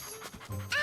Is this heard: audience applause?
no